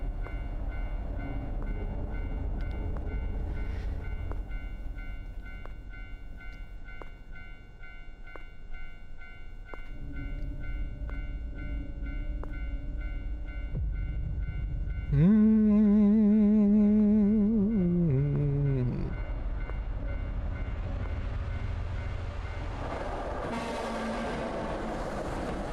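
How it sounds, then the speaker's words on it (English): A train rumbles steadily close by for the whole stretch, with a loud, sustained, wavering horn blast near the middle before the rolling noise carries on. "The train sounds so close."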